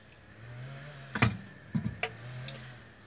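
Manual press brake bending sheet metal: a few sharp metallic clanks and clicks at an uneven pace over a low, faint background hum, with no voices.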